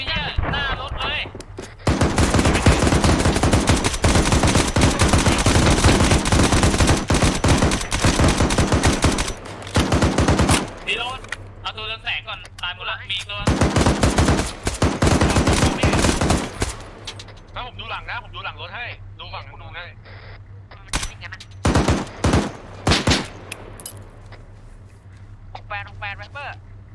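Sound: gunfire from enemies in the video game Arma 3

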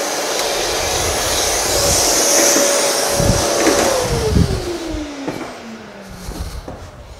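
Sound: vacuum cleaner running in a woodworking shop

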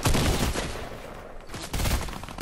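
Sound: gunfire in the video game Fortnite

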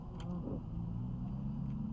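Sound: car driving in the video game Unturned

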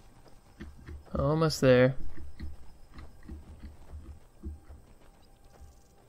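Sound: horse hooves clip-clopping in the video game Skyrim

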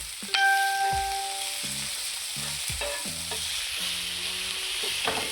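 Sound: sautéing tomato and capsicum in oil on a tawa

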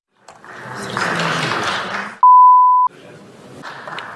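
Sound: censorship beep over profanity

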